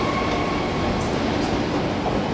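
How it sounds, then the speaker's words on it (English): Train rumble at Perth's main railway station, a steady broadband roar of rolling stock with faint metallic squeal, continuous and fairly loud throughout without talk. "So this is where all the trains come through when they get to Perth."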